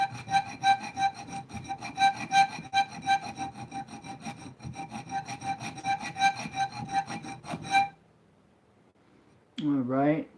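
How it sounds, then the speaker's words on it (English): A chainsaw round file rasps steadily against a homemade blacksmith-forged knife blade in quick rhythmic strokes for about eight seconds, then stops; a brief voice is heard near the end. "this chainsaw round file would cut this out really quickly"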